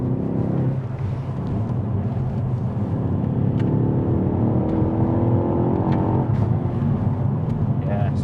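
Dreamscience-tuned Mk4 Ford Focus ST pulling out of a corner, a steady engine drone building gradually from inside the cabin, with someone talking over it.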